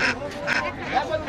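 Local ducks at a busy rural village market give short nasal quacks, fairly close and mixed with a voice talking over the crowd noise.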